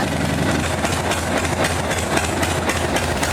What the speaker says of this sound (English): kicked her over, fired her up, made sure that the exhaust wasn't bouncing or shaking